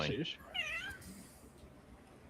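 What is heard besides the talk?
cat meowing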